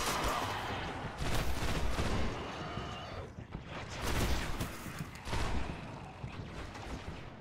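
Sustained bursts of gunfire from the video game Destiny, dense and continuous rapid shots that swell and fade in waves, loud throughout with no voices over it.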